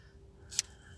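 Scissors snip through a length of green ribbon during a crafting project, giving one sharp, close cut followed by a fainter second snip, quiet and brief, with no speech.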